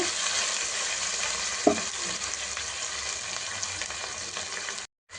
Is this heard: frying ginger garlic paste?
yes